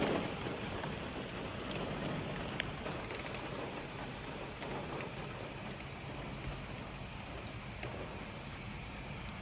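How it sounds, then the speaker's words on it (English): Steady rain falls outdoors, a dense, even hiss of drops on surfaces with occasional louder drips, heard close and alone without voices. "Y'all see the rain?"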